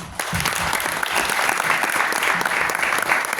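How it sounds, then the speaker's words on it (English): An audience at a tech demo night gives a presenter named Chase a round of applause, loud, close and sustained, with a few whoops mixed into the steady clapping. "let's give Chase a round of applause"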